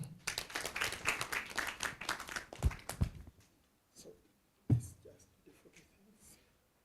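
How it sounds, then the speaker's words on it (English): An audience at a scholarship program launch claps for about three seconds, a fairly close burst of hand claps that tapers into quiet, followed by a few scattered sounds and faint voices. "You can clap."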